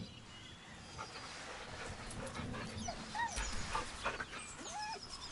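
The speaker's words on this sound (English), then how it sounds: "The dog whimpers nervously, as if to urge you on." A dog whimpers and whines nervously in short, high, wavering cries over a steady background hiss, fairly faint and with no talking.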